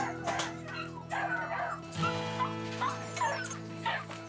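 Several sled dogs yip, whimper and bark in short overlapping bursts close by, an eager chorus of whines and yelps repeating every half second or so.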